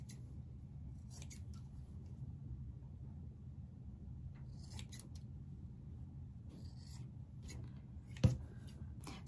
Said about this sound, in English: now you want to trim your corners.